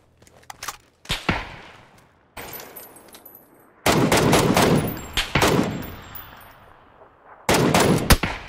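Shooter video game gunfire: loud, close bursts of rapid automatic shots separated by short pauses, with a few single cracks, heard alone.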